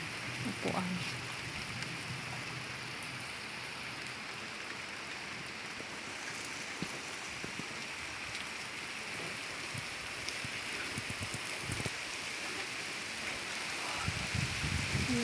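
Steady rain pours down at a remote roadside stop in Sri Lanka, a dense continuous hiss of drops on surfaces with occasional louder splashes and faint distant voices.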